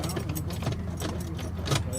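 Metal car keys jangle and clink in short bursts while someone fumbles for the right key to a 1967 AMC barn find, with talk close by and a faint low hum beneath.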